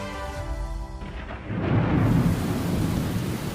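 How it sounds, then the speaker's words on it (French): Torrential rain breaks out over rice fields, swelling from a low rumble into a loud, dense, steady roar that fills the whole scene, with no voices. "le ciel change brusquement et une pluie torrentielle s'abat"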